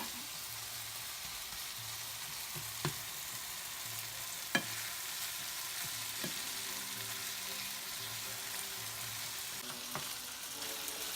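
Taco meat frying in a pan, a steady close sizzle with occasional sharp clicks and scrapes of a utensil stirring it, quiet and continuous with no talking.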